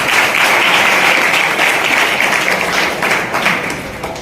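Students at a college event in Shirdi applaud together, a dense, steady wash of clapping that holds loud throughout and thins slightly toward the end, with no voices on top.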